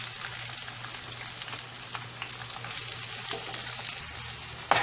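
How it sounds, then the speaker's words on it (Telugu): Green chillies and onions frying in a pan: a steady, crackling sizzle with scattered pops and a brief clatter near the end, close and moderately loud, with no voice. "కొంచెం గ్రీన్ చిల్లీస్ వేసుకుందాం. అవి ఫ్రై అవ్వాలి."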